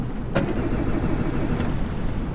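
A low ship engine in the game Stormworks: Build and Rescue chugs and rumbles steadily throughout, with a couple of sharp clicks from the starter as it turns over.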